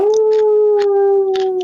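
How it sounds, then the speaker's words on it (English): A wolf howl in the video game Bayonetta 3: a single sustained howl holds a steady pitch, with faint rustling and clicking in the background; loud and close, brief. "There's that wolf howl,"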